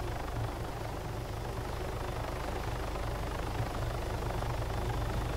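Steady engine and rotor drone of a helicopter in the video game Arma 3 Altis Life, continuous and fairly loud throughout with no voices.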